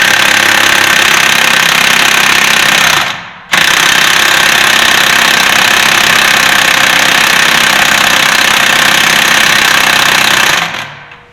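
A cordless impact wrench hammers loudly at the 22 mm sheave nut on a Yamaha Viking, a continuous rattling burst with one brief pause, then a second long burst that stops near the end.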